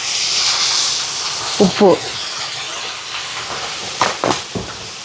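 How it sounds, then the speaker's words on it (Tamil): Vegetables with grated coconut and turmeric frying in a pan, a steady hiss of sizzling running throughout with a few clatters, while a voice speaks briefly over it. "இப்போ இதெல்லாம் வதங்கி அப்படியே வறுபட்டு வரட்டும்"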